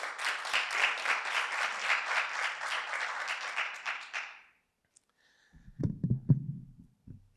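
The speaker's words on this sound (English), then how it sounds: "Can you please give him a round of applause?" An audience at a leadership programme launch gives a round of applause, with dense clapping that pulses slightly for about four seconds and then fades out, followed by a brief silence and then someone speaking.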